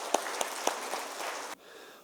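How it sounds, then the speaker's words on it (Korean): Warm applause from a church congregation at an opening worship service, a dense burst of clapping with a few sharper claps standing out, lasting about a second and a half before cutting off abruptly to quiet room tone. "뜨거운 박수로 맞이주시면 감사하겠습니다."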